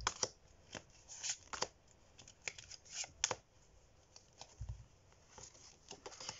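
Tarot cards being drawn and shuffled from a large deck by hand, a series of soft, crisp riffling and sliding snaps scattered irregularly at close range with no talk.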